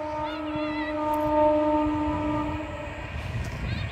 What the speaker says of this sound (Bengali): দেখুন ট্রেন যাচ্ছে, দূর থেকে ট্রেন যাচ্ছে, এক্সপ্রেস ট্রেন যাচ্ছে,